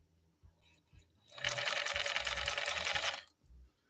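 A 1950s Pfaff 130-6 sewing machine, damaged in a fall and reassembled, runs a straight stitch in one steady, fast whirring burst of about two seconds, close and loud, with quiet knocks before and after.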